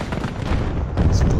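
Explosion in an online shooter game, a heavy boom lifting out of continuous rumbling battle noise at about the one-second mark, with a player talking over it.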